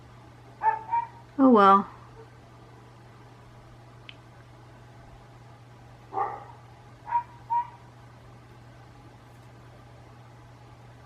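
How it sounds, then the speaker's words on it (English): Dogs bark outside an open window on a quiet day, a few short distant barks in two clusters, faint against a steady low hum, with a brief spoken remark. "All the dogs have decided to let their presence be known today, haven't they?"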